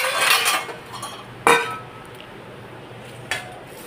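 Spices are mixed in a kitchen bowl with a utensil, giving a soft scraping rustle and then a couple of sharp clinks of metal against the dish. Close and fairly loud, with no talk.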